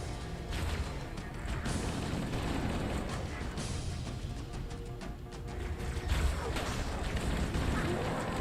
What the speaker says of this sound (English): Getting grenades thrown at me.